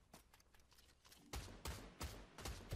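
Faint distant gunfire in a video game, scattered shots at first, then several louder closer bangs in a quick uneven series.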